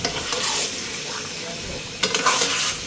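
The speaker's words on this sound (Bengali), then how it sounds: "ভালো করে লাড়া দিয়ে আনি" Food is stirred in a sizzling pan up close, with two scraping bursts, one at the start and one near the end, over continuous frying.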